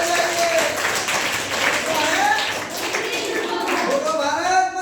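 Schoolchildren in a classroom clapping together for a classmate, a lively burst of hand claps mixed with voices talking over it.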